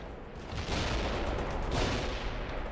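Sustained battlefield gunfire from World in Conflict: Soviet Assault, a dense roar of distant automatic weapons and explosions rumbling continuously, building and swelling midway.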